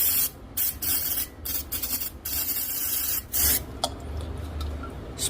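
Brake cleaner hisses from an aerosol can onto engine parts in repeated bursts of varying length, close and fairly loud, with short pauses between sprays.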